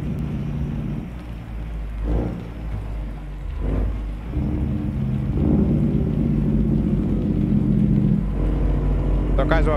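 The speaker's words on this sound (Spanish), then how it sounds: "Toca suave porque la lluvia está intensa" Steady heavy rain roars with low rumbling, drumming on a truck in an American Truck Simulator driving game, continuous throughout with a brief rattle near the end.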